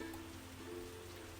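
Steady rain in the indie video game Grainhold, a soft continuous patter with a low hum beneath it, even and faint throughout with no other sounds standing out.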